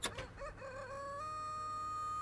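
A chicken gives a few sharp clucks, then breaks into a drawn-out, rising crow that holds steady and clear near the listener, with no voices over it.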